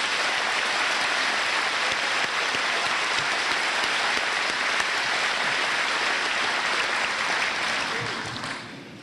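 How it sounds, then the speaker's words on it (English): Sustained applause from a high school graduation audience, a dense steady wash of many hands clapping that holds for several seconds before tapering off at the end. "Please give them a round of applause."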